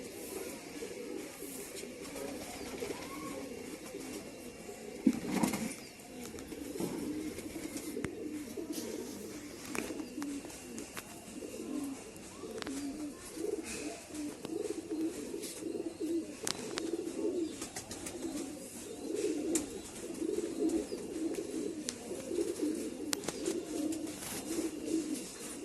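Domestic pigeons coo steadily in a continuous murmur, several birds overlapping at moderate distance, with occasional sharp clicks and a brief louder bump near the start.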